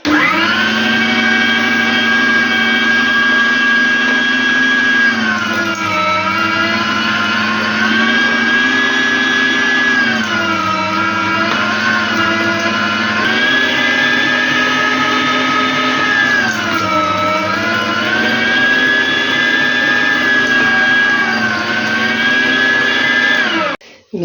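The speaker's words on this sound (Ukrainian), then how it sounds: "знову свою похвастаюся трошки своєю м'ясорубкою, що прекрасно прямо от поставила зараз і цибулю, і м'ясо швиденько перемели" Electric meat grinder running steadily for about 24 seconds, loud and close, grinding meat and onion for dumplings, its motor whine wavering in pitch as the load shifts, then cutting off abruptly at the end.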